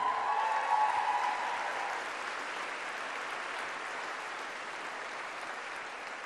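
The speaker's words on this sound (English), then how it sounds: "can we have a quick clap for graphic design?" A graduation audience claps for the graphic design graduates, a broad, moderately loud wash of applause that swells briefly at the start and then settles into steady, slightly softer clapping.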